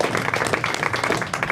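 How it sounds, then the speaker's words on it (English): Steady audience applause from a live podcast crowd rewarding a celebrity-guessing game answer, a dense continuous wash of many hands clapping at moderate, even loudness throughout. "round of applause for that guess"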